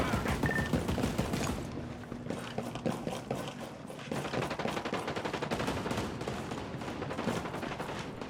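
Rapid gunfire bursts from a Ghost Recon Breakpoint firefight, with dense automatic rattles and single shots overlapping in quick succession, fairly loud and sustained throughout.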